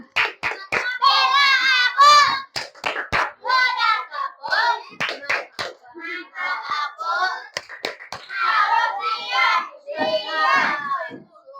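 A class of fourth-grade schoolchildren chant and clap in unison in a 'tepuk diam' routine, with rhythmic bursts of claps mixed with young voices, loud and close in a classroom.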